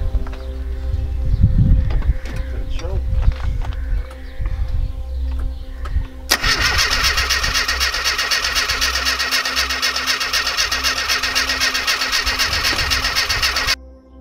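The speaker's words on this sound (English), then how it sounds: "The engine did fire up eventually" A classic Mini car engine cranks briefly and then catches, settling into a loud, steady idle that runs for several seconds before cutting off abruptly.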